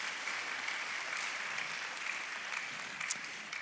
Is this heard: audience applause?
yes